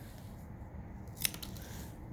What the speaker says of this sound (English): I'm gonna cut my straw